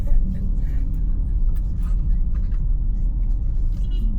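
Busy road traffic at Cogon, with a low, continuous rumble of car and bus engines close by and occasional higher noises over it, while voices talk faintly underneath.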